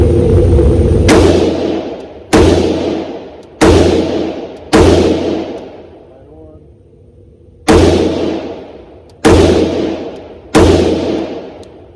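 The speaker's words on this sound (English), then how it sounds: "Go ahead and shoot some of these rounds" A .22 LR AR rifle fitted with a CMMG Bravo conversion kit fires seven single shots outdoors. Each is a loud, sharp crack with a decaying tail, spaced about a second or two apart, with one longer pause midway.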